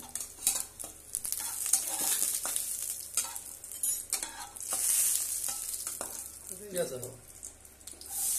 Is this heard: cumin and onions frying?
yes